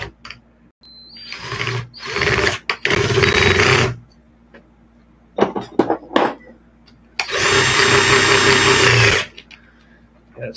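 A power tool drives nuts onto through bolts while an Arrma Kraton RC truck is repaired: a stuttering whir of short bursts, then a quiet pause and one steady, louder two-second run close by.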